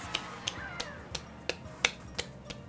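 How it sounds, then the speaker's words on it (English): Game character in Super Mario Party clapping: a series of about eight sharp, evenly spaced claps with a hollow, knocking, hoof-like quality, fairly faint over quiet background. "His claps sound more like hooves"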